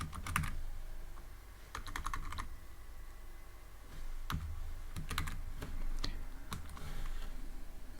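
Clusters of close keyboard keystrokes come in short quick bursts with pauses between them as Python code is typed on a computer, with no talking over a low steady room hum.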